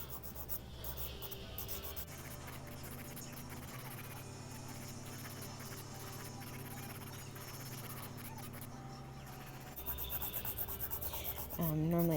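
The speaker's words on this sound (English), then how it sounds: "we're going to start filing" Steady, close rubbing and rasping as a nail is filed for geode nail art, a continuous scratchy scrape that grows a bit louder and rougher toward the end.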